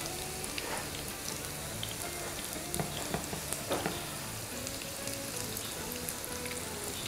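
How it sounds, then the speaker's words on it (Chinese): Food pan-fries in a wok over low heat with a soft, even sizzle, quiet and continuous, with a few faint crackles and light pops scattered throughout. "这样它煎得更加均匀一些"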